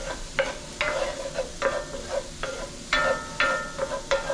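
Mushrooms and carrots frying in a hot cast iron pan over medium-low heat, a gentle sizzle broken by repeated scraping stirs at an uneven rhythm, close up with no speech.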